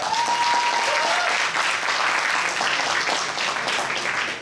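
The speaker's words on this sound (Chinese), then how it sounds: "然后大家掌声鼓励一下吧。" Audience applause at an open culture film festival fundraising dinner, a dense, steady burst of clapping from a crowd lasting several seconds, with a brief tone near the start.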